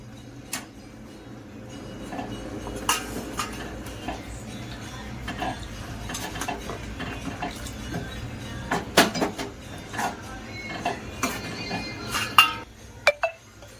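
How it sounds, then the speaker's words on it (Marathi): Fresh tender cashews and potatoes go into a pan of gravy, with a steady run of clinks and metallic clatter from a spoon against the pan, growing busier and sharper toward the end, with no talking. "आता आपण हे काजू आणि बटाटे टाकून घेणार आहे याच्यामध्ये"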